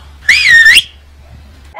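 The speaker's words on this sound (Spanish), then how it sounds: "Chut, ahora sí me toca silbar" A single short melodic whistle by a man, a clear rising-and-falling tone lasting about half a second, loud and close, followed by quiet.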